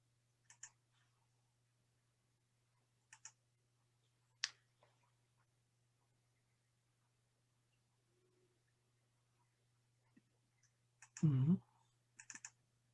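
Mouse clicks during screen sharing in an online round-table meeting, a few sharp, isolated clicks spaced seconds apart with a brief cluster near the end, close and clear against a quiet background.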